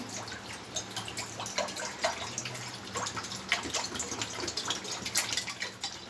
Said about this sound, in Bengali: অল্প পরিমাণ পানি দেব